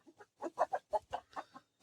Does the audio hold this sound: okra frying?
no